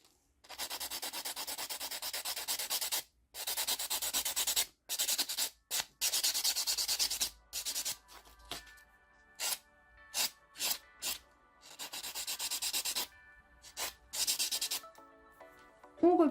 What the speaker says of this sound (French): On va passer le bloc polissoir sur le reste de l'ongle.